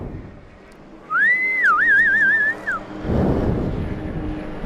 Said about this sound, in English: Yes, that was me whistling.